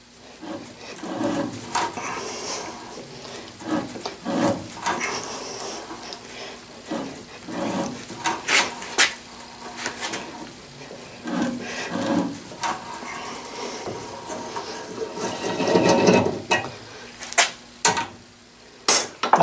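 A threading die is turned by hand to cut threads on hard steel, producing irregular scraping, creaking and clicking strokes in bursts, close by, with short pauses between turns.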